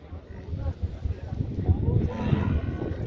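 A cow moos low and drawn-out amid the busy, noisy background of a livestock market, with some murmuring voices nearby.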